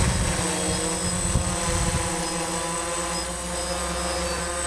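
A DJI Phantom drone hovers outdoors on a windy day, its rotors giving a steady, even droning hum with constant wind rush and no break throughout.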